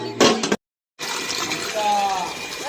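Water gushes and splashes into a water tank, a loud running pour broken by a brief silence, with a voice heard briefly at the start.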